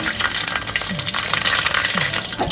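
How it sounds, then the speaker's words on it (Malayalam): Loud, dense sizzling and crackling of chillies and mustard seeds frying in hot oil for sambar, steady throughout with no voices. "കടുക് പൊട്ടി ഇനി നമുക്ക് ഒന്ന് മുളക് ഇട്ട് കൊടുക്കാം"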